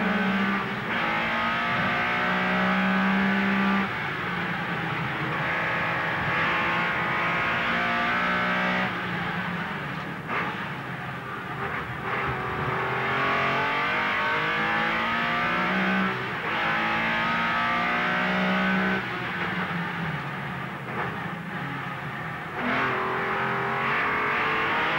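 Sports sedan race cars lapping Amaroo Park circuit in 1984, engines roaring and revving continuously through the whole stretch, with rising and falling pitch as cars accelerate, shift and pass, loud and close with no talk.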